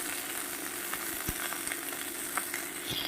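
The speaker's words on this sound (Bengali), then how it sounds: "একটু হালকা করে ভেজে নেব বন্ধুরা" Vegetables fry lightly in a pan for a simple curry, giving a soft, steady sizzle with faint stirring clicks throughout.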